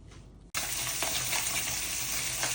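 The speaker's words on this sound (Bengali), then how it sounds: "এখন মাছটা ভেজে নিব।" Fish is fried in hot oil: after a brief quieter moment a loud, close, continuous sizzle and crackle bursts in and holds steady to the end.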